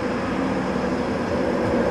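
Train carriages being shunted at an Indonesian railway station, heard as a steady, broadband rolling rumble of rail cars moving nearby, with no talk.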